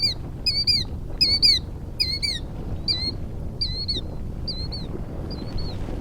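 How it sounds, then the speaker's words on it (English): Killdeer plover calling, a series of about ten sharp, high, squawking notes in quick pairs and groups, fairly close and fading slightly over time, over a steady low background rumble. "The common name killdeer was given to this bird on some twisted notion that a call from the bird sounds like kill deer."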